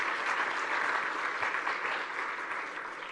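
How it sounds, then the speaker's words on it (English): Applause from a forum audience at the opening session of the Commonwealth Women's Forum, a steady dense crowd clapping sound holding fairly even and easing slightly toward the end. "Can we just give that a round of applause?"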